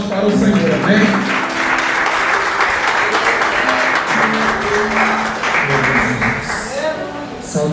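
Congregation at a church service applauding for the Lord, a dense, sustained clapping that fills the room at close range, with voices mixed in beneath it.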